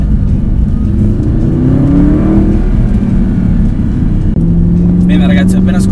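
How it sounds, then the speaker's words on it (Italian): Audi R8 with a big V10 engine rumbling loudly from behind the cabin, a steady deep drone with a rising rev swell near the start and middle, continuous and close throughout. "vedo dietro di me quel grosso motore che è veramente uno spettacolo, non solo da vedere ma anche da sentire"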